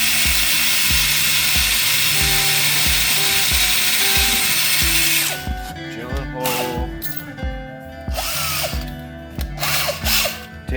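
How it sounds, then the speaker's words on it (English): A power drill drives screws into a wooden stomp box, whirring in repeated short bursts with ratcheting clicks, loud and close, followed by a few separate spurts of the drill. "I'm just drilling some holes,"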